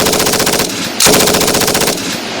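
Machine gun firing tracer rounds in long, loud sustained bursts of rapid automatic fire, with one momentary break between bursts and nothing else audible.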